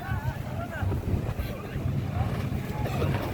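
An outrigger boat's motor hums steadily over lapping water at a boat race in Boracay, with wind buffeting the microphone and faint voices in the background.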